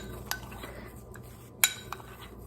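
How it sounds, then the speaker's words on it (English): A spoon of mayonnaise taps against a bowl for deviled eggs, making a few sharp metallic clinks. The loudest lands in the middle and lighter ones come before and after it, over a quiet background. "I'm just kind of shaking it off the end of the spoon"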